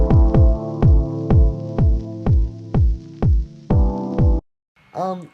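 A steady four-on-the-floor lo-fi house kick drum thumps under a warm sustained chord, each kick with a deep pitch drop, ending with a brief descending synth flourish.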